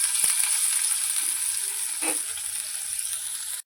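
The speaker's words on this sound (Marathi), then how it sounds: "तेल गरम झाल्यानंतर आपण यात बारीक चिरलेला कांदा घालणार आहोत." Finely chopped onion fries in hot oil in a kadhai, making a steady, bright sizzle throughout with a couple of soft stirring knocks, and the sound cuts off abruptly at the end.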